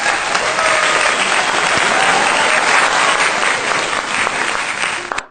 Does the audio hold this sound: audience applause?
yes